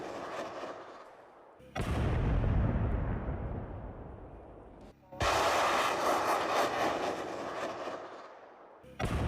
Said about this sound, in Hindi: यहां पर M1150 से माइंस हटा रही है यूक्रेनी सेना।